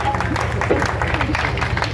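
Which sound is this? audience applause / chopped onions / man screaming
audience applause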